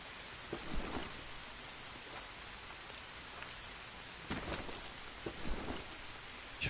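Rain falls steadily in the jungle survival game Green Hell, a soft continuous patter with a few louder drop bursts and distant rumbles, quiet and with no voices.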